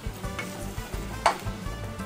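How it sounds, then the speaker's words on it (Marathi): Stuffed brinjal curry gravy bubbles and sizzles in a pressure cooker pot, with soft rhythmic stirring scrapes and a single sharper clink partway through, close and fairly quiet. "हे बघा उकळी यायला लागलेली आहे"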